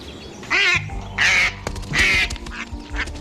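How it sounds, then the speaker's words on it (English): Two wild ducks that landed in a backyard swimming pool quack in three loud, raspy bursts, each about a third of a second long, with quieter background noise between them. "these two wild ducks landed in my pool"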